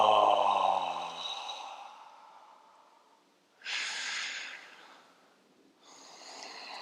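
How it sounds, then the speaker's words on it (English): Deep breaths during a Kundalini yoga breathing practice: a soft, airy exhale through the mouth, then two more breathy rushes of air a couple of seconds apart, close and fairly quiet. "exhale through the mouth"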